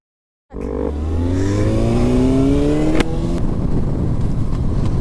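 A motorbike engine revs up close and loud, its pitch climbing steadily over several seconds after a sudden start, with a brief sharp click partway through and no speech.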